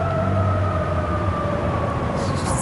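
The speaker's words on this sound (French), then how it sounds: "Je ne sais pas si c'est une ambulance ou un camion de pompiers." An ambulance or fire truck siren heard outdoors in a park, a steady wavering wail at moderate distance sitting over background traffic-like noise.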